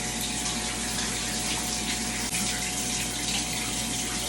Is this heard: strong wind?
no